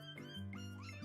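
A single drawn-out cat meow, clear and close, from playful kitty music played on a livestream, sung in rising and falling tones over a steady musical backing.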